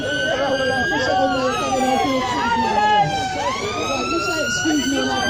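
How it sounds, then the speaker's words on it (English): An ambulance siren wails with a rising and falling pitch as it passes along a London street near Westminster during a yellow-vest road protest. It is loud and continuous, with crowd noise underneath. "There's an ambulance coming through."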